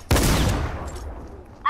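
A single loud gunshot blast from the Fortnite video game, with a sharp onset and a reverberant tail that fades over about a second, followed by another burst of sound at the end.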